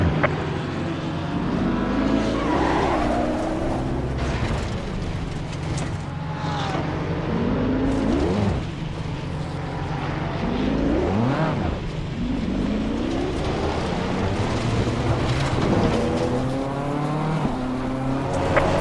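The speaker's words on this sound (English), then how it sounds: "Faster car approaching. Watch out." Race car engines from a racing video game, several cars roaring and whining through gear changes in steady overlapping passes, with rising and falling pitch sweeps as faster cars close in, loud and continuous without talk.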